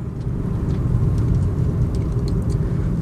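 Interior of a 2001 BMW 325i driving, with a steady, loud low rumble of engine and road noise and no talk.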